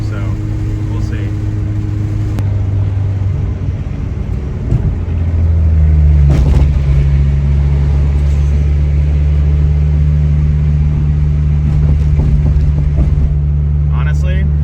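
Steady engine drone and road rumble inside a 1992 Acura Integra on the highway, with a low engine note that rises and holds as it speeds up, continuous and fairly loud.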